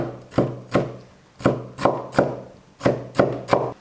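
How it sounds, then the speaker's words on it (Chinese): A knife chops half a green pepper into small pieces on a cutting board: sharp, close, distinct thuds come in uneven bursts of two or three, about ten strikes in all, with no talking. "接下来我们准备半个青椒，先切成丝，再切成小颗粒。"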